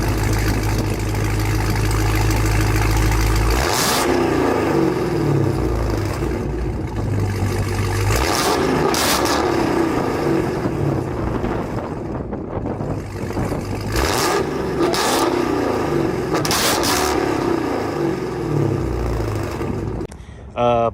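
A Dodge Challenger Hellcat Widebody with JBA catless mid pipes and a mid muffler delete idles with a deep rumble, then revs repeatedly in loud bursts of rising, snarling exhaust.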